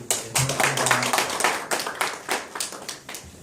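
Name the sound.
applause welcoming the speaker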